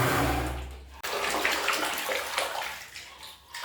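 Water pours and splashes during a bath, loud and steady with a brief break, then gushes again. Gurgling and shifting splashes continue beneath it.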